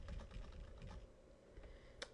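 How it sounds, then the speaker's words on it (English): Someone types on a computer keyboard while writing a Gmail message, a short run of soft, quick key clicks close by over a faint background hum. "In the to box, just start typing the person's name"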